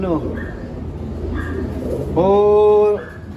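Pigeons in a loft give several soft, close coos, with one louder drawn-out call near the end, while a voice talks over them.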